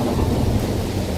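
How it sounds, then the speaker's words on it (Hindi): Heavy rain with rumbling thunder as a story sound effect, a dense continuous roar of downpour and low thunder filling the whole moment with no voices. "तभी जोरदार बारिश होने लगी"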